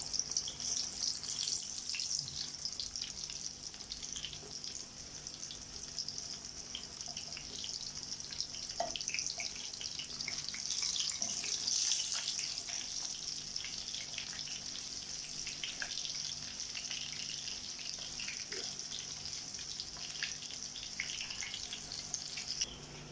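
Beef steak pieces for bifteck, fried one by one in hot oil until golden, give off a steady, continuous sizzle with crackling bursts throughout, close and moderately loud, with no talking.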